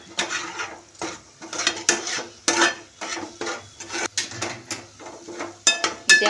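Chicken masala being stirred and sautéed in a pan with chilli powder, the spatula scraping and clattering against the metal in repeated bursts over a faint sizzle, close and fairly loud with no talking.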